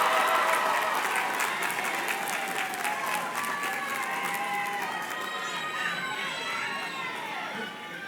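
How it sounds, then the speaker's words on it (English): Students give a round of applause at a school gathering, loud dense clapping with some cheering and crowd noise, slowly tapering over several seconds. "Let's give him one more round of applause."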